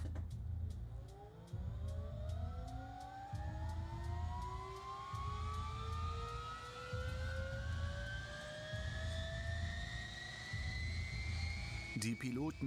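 A military helicopter's turbines start up, a rising whine that climbs steadily in pitch over a rhythmic low thumping, loud and close, with someone talking over it.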